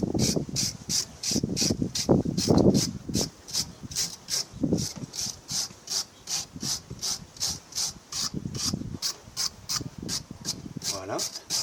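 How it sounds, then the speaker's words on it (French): A wire brush scrubs wheel bearing parts during a rear wheel bearing replacement, in regular rapid back-and-forth strokes close by, with a steady rasping rhythm and some low handling noises in between. "je vais quand même passer un coup de brosse métallique partout"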